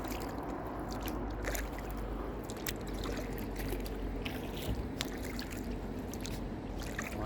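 A kayak hauled by hand through shallow water along the bank of the Ottauquechee River at evening, a steady, soft rush and trickle of water with scattered small splashes and knocks, no voices.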